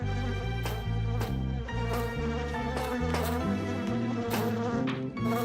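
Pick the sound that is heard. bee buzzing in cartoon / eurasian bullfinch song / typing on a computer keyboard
bee buzzing in cartoon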